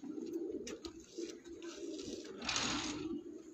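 Pigeons coo softly and repeatedly on a rooftop, with a faint flutter of wings joining near the end.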